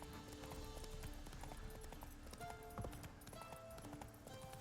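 Roach the horse gallops in Witcher 3, steady rhythmic hoofbeats drumming at a quick pace over a faint ambient bed, fairly quiet and close.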